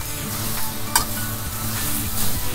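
Stir-frying nabana greens in oyster sauce in a small wok: a continuous hiss of sizzling oil with scraping stir strokes and a sharp clink near the start, close and steady.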